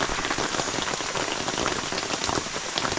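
Heavy rain pours down during a storm, a dense, steady roar of drops striking surfaces with no letup and no voices.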